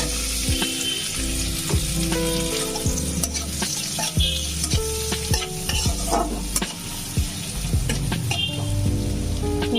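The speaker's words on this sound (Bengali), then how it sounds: "এবারে এর মধ্যে দিয়ে দিচ্ছি আমি কুচনো পেঁয়াজ আর রসুন।" Chopped onion and garlic fry in a pan over a medium-low gas flame, with a steady close sizzle and repeated scraping stirs and knocks of a spoon against the pan throughout, no voices.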